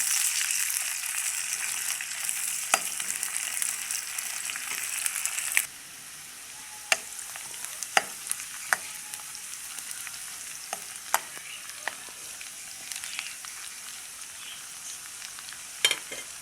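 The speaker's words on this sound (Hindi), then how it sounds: "तो ये तड़का भी हमारा तैयार हो रहा है और तड़के में हमने डाल दिया इसके अंदर ये सरसों का तेल डाल दिया" Onions fry in hot mustard oil for a tadka. A loud, steady sizzle is heard up close at first, then it drops to a quieter crackle broken by occasional sharp clicks of a stirring spoon.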